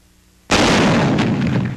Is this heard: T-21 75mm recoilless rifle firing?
yes